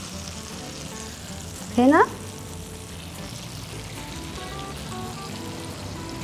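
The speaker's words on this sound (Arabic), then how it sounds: "هنحط الكزبرة الناشفة، هنحط الطشة" Hot tasha of dried coriander hits Egyptian okra in a clay pot with a steady, loud sizzle that runs throughout, under a brief spoken word.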